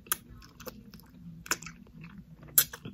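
Someone chewing and biting into vegan ramen with kimchi at close range, with a few crisp crunchy bites standing out between softer, quieter chewing; no talking.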